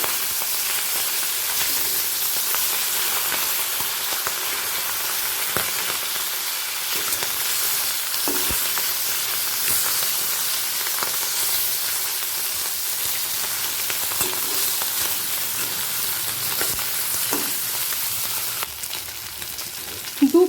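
Constant crackling sizzle of hilsa fish frying in oil, dense and even, with a few faint clicks and a brief clatter near the end.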